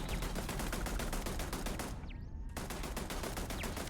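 Automated turrets fire steady rapid bursts at the player in the sci-fi game Starfield, a dense, loud rattle of gunfire that drops out briefly near the middle before resuming at full intensity.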